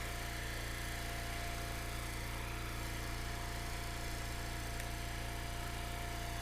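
A small gas engine powering a firewood log splitter runs steadily at constant speed, a dense unbroken drone with a low hum and no pauses, heard alone without speech.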